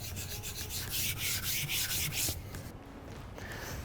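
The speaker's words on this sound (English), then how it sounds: "filing a key down and it just rubs right off" Metal key scraping and filing across a hardened epoxy surface, a steady close rubbing rasp that comes in quick repeated strokes, then eases off toward the end.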